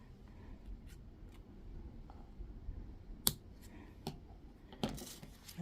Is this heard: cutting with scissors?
yes